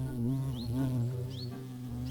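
Honeybee swarm buzzing close by in a steady, dense drone with rising whines, returning scouts and the swarm choosing a new nest site, continuous for two seconds with no voices.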